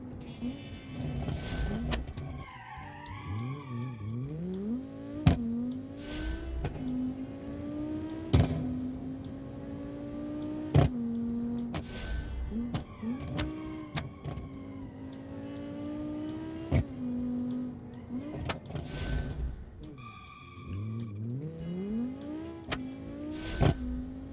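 Modified sport wagon racing in the BeamNG driving game, its engine revving up and down through repeated gear shifts with sharp clunks and bumps, a continuous close engine drone throughout.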